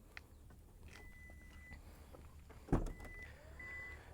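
Power tailgate of a black 2025 Maruti Victoris ZXi opening, giving a faint, steady electric motor whine with a single soft clunk partway through, heard alone at low level.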